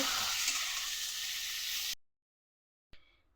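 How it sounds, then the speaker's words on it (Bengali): Steady broadband sizzle of eggplant and potato frying in oil for about two seconds, then abrupt silence, followed by a brief faint burst of sizzling. "এদিকে বেগুন আলু ভাজছি"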